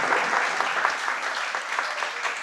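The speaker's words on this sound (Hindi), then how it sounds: "अच्छा बनना है तो फिर ताली बजाओ ना" An audience claps steadily during a sermon at a Digambar Jain temple, a dense, even applause from many hands that lasts the whole moment, near and fairly loud.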